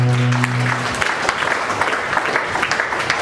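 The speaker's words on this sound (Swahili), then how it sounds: "Hebu mpe Yesu makofi ya utukufu." Church congregation applauding together, a dense, steady wash of clapping that fills the room after a low hum of organ or keyboard notes fades out in the first second.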